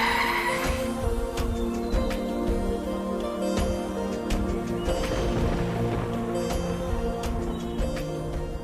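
A car in a TV drama skids to a stop with loud screeching tire squeal and engine noise that run for several seconds, up close and with no talk over them.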